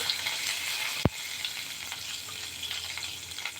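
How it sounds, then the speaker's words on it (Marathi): Curry leaves hit hot oil for a Marathi semolina tempering, giving a sharp crackle followed by a steady, close sizzle and frying hiss that carries on throughout. "कढीपत्त्याची पण छान फोडणी बसली पाहिजे"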